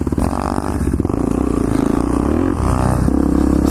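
An SSR pit bike rides on a slippery Motobro supermoto track, its small single-cylinder engine buzzing loud and close with steady revving throughout.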